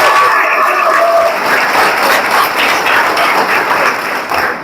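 Audience applause at a motivational success seminar, a dense steady wash of clapping from many hands that fills the room loudly and evenly, then tapers slightly near the end.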